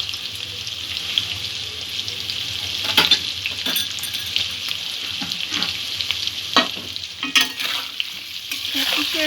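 Spinach and potato curry with turmeric sizzles in a pan while being stirred, a continuous crackling fry with repeated scraping strokes of a spoon against the pan; no talking.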